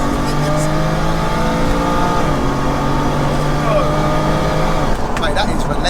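A 700 hp single-turbo BMW wagon pulls hard in second gear, its engine note rising loud and steady from inside the cabin, with a shift or lift near the end and people talking over it.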